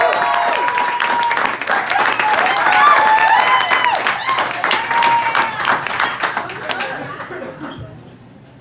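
A comedy club crowd claps and cheers for a comedian coming to the stage, a dense, loud burst of applause with scattered chuckles and voices that thins out and fades to near silence near the end.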